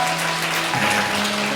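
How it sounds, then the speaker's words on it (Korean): A church congregation claps steadily and densely for children at a Korean Sunday confirmation service, a continuous wash of applause with a faint low tone running underneath. "우리 아이들에게 격려의 박수하도록 하겠습니다."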